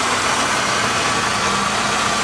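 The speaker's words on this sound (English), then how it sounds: "It's a nice running car." A 1967 Oldsmobile Delmont 88 convertible with a 425 Super Rocket high-compression big-block V8 idles with a steady, close, loud rumble and no voices over it.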